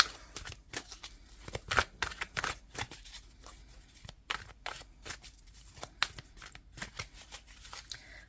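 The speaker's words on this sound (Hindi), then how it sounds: "मैं लास्ट 3 कार्ड निकालूंगी।" Tarot cards handled close up, shuffled and drawn from the deck: quick papery riffles and soft slaps in irregular bursts, fairly quiet, with no speech.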